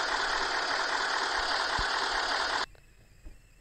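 A motorbike engine runs at a steady, loud, rough drone for a couple of seconds, then cuts off abruptly, leaving quiet with a few faint knocks.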